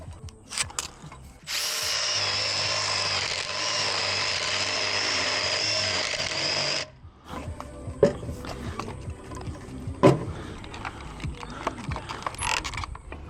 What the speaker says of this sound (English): I'll drill a small hole here with my spade bit